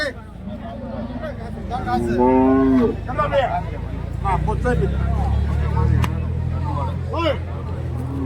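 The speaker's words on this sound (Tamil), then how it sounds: "இங்கே வந்து மாடு கன்றோட இருக்குது" A cow with her calf at a cattle market in Santhipuram, Andhra Pradesh, lets out a drawn-out moo close by, while people talk and a low engine rumble carries underneath.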